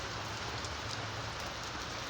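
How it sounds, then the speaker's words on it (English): Heavy rain pours down outdoors in Virginia, a dense, steady hiss of drops drumming on surfaces that stays loud and unbroken throughout with no voices. "Holy moly, look at all that rain."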